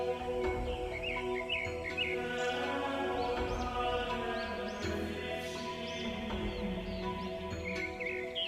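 Birds sing and chirp in a green garden, several overlapping high, trilling calls and tweets repeating across the whole stretch over a soft, steady outdoor background, with no voices.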